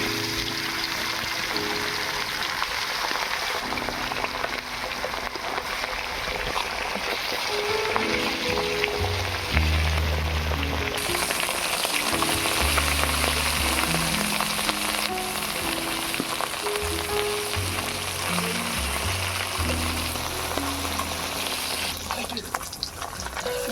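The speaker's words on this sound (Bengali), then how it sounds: "এবারে দিয়ে দিচ্ছি সরিষার তেল এবারে মাছগুলো ভেজে নেব" Fish sizzles steadily in hot mustard oil, a continuous crackling hiss throughout, with background music or murmuring voices underneath.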